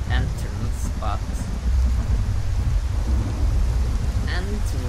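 Steady rain and a thunderstorm in the video game Skyrim wash over the whole scene as a dense, loud hiss with deep low rumbling, while someone speaks briefly over it.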